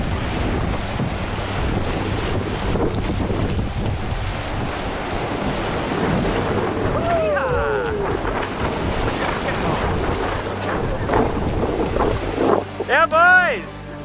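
Whitewater rapids on the Missinaibi River roar loud and close around a canoe running a chute. The rushing water churns continuously, with wind buffeting the microphone and brief excited shouts from the paddlers.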